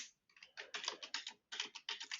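A name is typed on a computer keyboard, a quick run of crisp close key clicks in two bursts with a brief pause between them.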